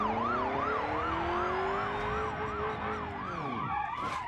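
Police car siren in the BeamNG.drive driving game, a loud wailing siren rising and falling steadily over a car engine, then dropping in pitch and cutting to a different tone at the end, with no talking.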